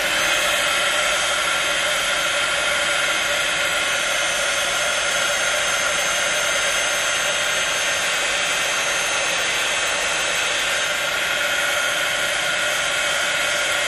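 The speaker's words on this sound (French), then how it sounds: "Je repasse encore un coup de heat gun." A heat gun blasts hot air onto the cardboard cover of a stamp album, a loud, constant blowing hiss with a motor whine, continuous and unbroken from start to finish with no talking.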